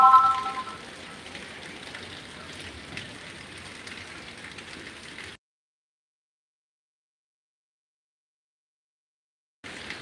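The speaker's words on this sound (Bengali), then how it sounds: "নোয়াখালীতে বৃষ্টির পরিমাণ প্রচুর পরিমাণ বৃদ্ধি পাচ্ছে" Heavy rain falling in Noakhali, Bangladesh, a steady moderate hiss of rainfall with scattered drops that cuts out abruptly into silence for several seconds, then returns briefly at the end.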